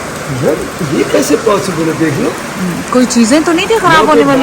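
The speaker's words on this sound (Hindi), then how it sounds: "इतनी तेज बारिश हो रही है।" Heavy rain falls outside a house as a steady, loud hiss under close, animated conversation.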